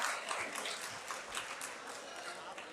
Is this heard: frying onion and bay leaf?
no